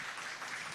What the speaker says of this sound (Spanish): fuerte el aplauso para recibir a Didier García Maldonado.